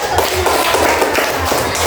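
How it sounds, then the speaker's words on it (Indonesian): A classroom of pupils clapping their hands together, a quick loud burst of claps close by in a school room. "Oh iya, tepuk tangan dulu."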